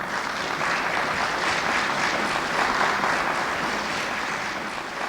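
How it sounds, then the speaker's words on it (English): Steady, dense applause from an audience at a lecture on the Dominican community, clapping evenly and loudly throughout without pause or voices. "So I ask for them a warm round of applause."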